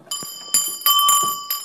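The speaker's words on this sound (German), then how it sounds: "dann hat man diese so eine Glocke in die Hand genommen" A hand bell for summoning servants is rung indoors in an old house, several bright metallic strikes in quick succession, close and clear, each with a ringing tail.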